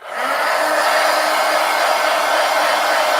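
A hair dryer runs steadily and loudly from start to finish, drying wet paint on a mixed media art journal page, a constant broadband whoosh with no talk over it.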